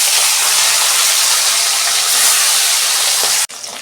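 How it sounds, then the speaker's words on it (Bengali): Hilsa fish head frying in hot oil, a steady, loud broadband hiss and crackle of sizzling that fills the scene without pause, then abruptly drops to a quieter sizzle near the end. "তেল গরম হয়ে গেছে, প্রথমে মাছটা ভেজে নিই।"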